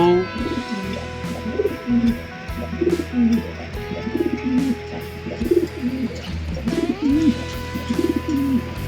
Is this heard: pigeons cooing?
yes